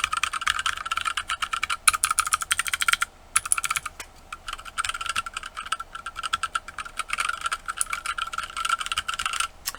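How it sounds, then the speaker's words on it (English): Rapid, steady typing on a wooden keyboard fitted with thin double-shot ABS DSA keycaps and tactile switches, close and clear, with brief pauses between bursts of clicky keystrokes in a workshop. "these are double shot thin ABS DSA caps, just so you guys know what you're listening to."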